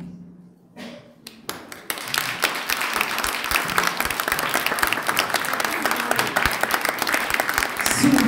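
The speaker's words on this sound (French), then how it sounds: "Sous vos applaudissements" Audience applause at an awards ceremony in Brussels, starting after a brief pause with a few scattered claps, then swelling into a sustained, dense ovation from a large crowd, loud and close, with faint voices mixed in.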